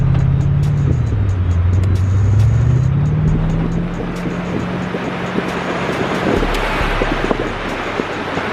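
A Corvette cruising along, its engine a low steady hum that dips and rises with the throttle, wrapped in wind rush and road noise, with occasional small clicks and no voices.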